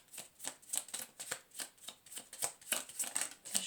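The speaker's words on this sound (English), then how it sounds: "Let's see if they come back around as I'm shuffling." Tarot cards being riffle-shuffled in quick, regular bursts of crisp flapping, close and fairly quiet, with no talking.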